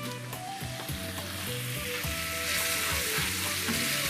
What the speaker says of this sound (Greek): Ανακατεύω λίγο ακόμα.